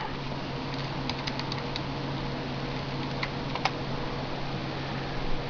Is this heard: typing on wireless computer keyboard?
yes